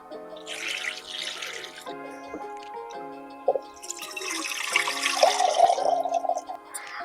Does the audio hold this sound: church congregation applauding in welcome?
no